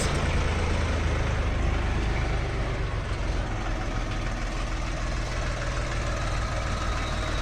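A Jinma 244 tractor's three-cylinder KM-385 engine idles steadily with a low, rhythmic knocking chug, close and constant throughout without pause.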